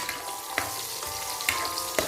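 Garlic and onion fry in a hot pan, a steady close sizzle with a few soft clinks of stirring at regular intervals and no talking.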